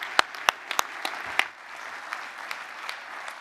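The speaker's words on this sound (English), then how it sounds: "Let's give him a round of applause." Clapping from a small audience at a talk on mental health in the construction industry, with several sharp individual claps standing out at the start before it settles into steadier applause.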